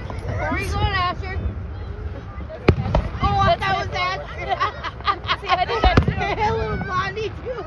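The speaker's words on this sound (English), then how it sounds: "This is his first time seeing real fireworks." Fireworks bang outdoors among a chattering crowd, with two sharp, loud bursts standing out over steady mid-level rumble, while children and adults talk excitedly throughout.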